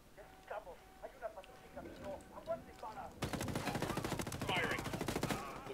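Rapid automatic gunfire in Ghost Recon Wildlands bursts out in a dense, sustained volley during the second half, after quieter scattered game sounds and voices.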